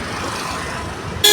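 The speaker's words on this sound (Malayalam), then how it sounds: "ഒരുപാട് പേര് നമ്മളെ ഹോൺ അടിച്ച് വിളിച്ച് കൈവക്കി കാണിക്കുന്നുണ്ട്" A vehicle horn blares loud and near at the very end of a short stretch of traffic rumble in a Panaji street jammed by a road-blockade protest, heard from a bicycle.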